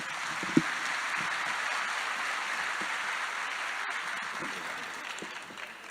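An audience gives a round of applause to welcome a speaker to an evening event, a steady, moderately distant patter of many hands lasting several seconds before tapering off.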